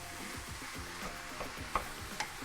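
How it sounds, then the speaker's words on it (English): Ground meat browns in a pot for homemade chili, giving a soft, steady sizzle under repeated scraping strokes of a spoon and a couple of light clinks. "just keep stirring it in, mix it all in together, incorporate it all until we get the meat's all browned up"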